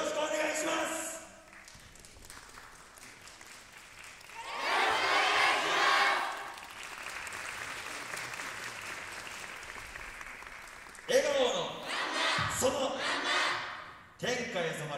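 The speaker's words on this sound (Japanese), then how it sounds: "ご声援手拍子のほどよろしくお願いします。" A crowd at the Sakai Yosakoi Kaeru Festival 2023 cheers and claps for the Kansai University student dance team Kanbu. The clapping and cheering swell and fade in waves while an announcer talks over parts of it.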